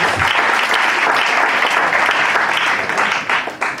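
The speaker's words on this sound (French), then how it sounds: "Can we clap our hands?" A church congregation claps hands together, a dense, loud, continuous burst of applause filling the room from start to finish.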